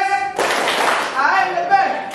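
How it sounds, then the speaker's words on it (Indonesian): A classroom of standing students does a rhythmic clapping chant, sharp hand claps starting after a brief pause and carrying on under a mix of young voices. "Nah, tepuk sukses"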